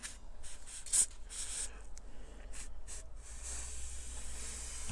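Steady soft hiss of a paint spray gun spraying paint onto a pop bottle charger, with brief louder bursts, fairly faint and close, with no voices.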